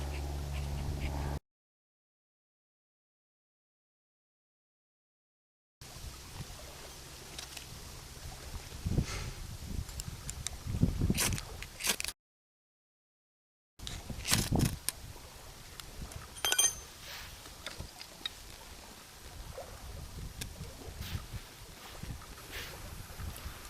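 Wind blows outdoors against the microphone in a steady low rumble with gusty surges, broken by two stretches of complete silence, plus faint scattered knocks and handling sounds.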